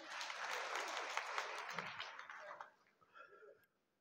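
An audience at a convention in Pandharpur claps loudly together, a dense burst of applause that thins out and fades to silence within a few seconds.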